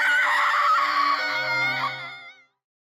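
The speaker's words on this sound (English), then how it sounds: "Mikuro unleashed a scream into the world." A girl's high, sustained anime scream, loud and strained with a wavering pitch, held for about two seconds before trailing off into silence.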